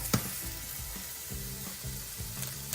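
Mushrooms frying in a pan give a steady close sizzle, broken by soft low knocks and scrapes of cookware, with no voices.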